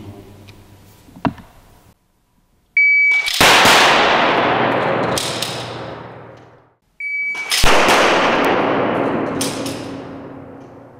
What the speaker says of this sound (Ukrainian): до секунди ми зробили два постріла з досиланням патрона в патронник